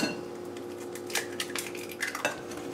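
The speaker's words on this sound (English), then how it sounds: "Be careful with your whisking." Sugar, cornstarch, salt and eggs being whisked in a bowl for roasted banana pudding, with quiet irregular scraping strokes and light clinks of the whisk against the bowl.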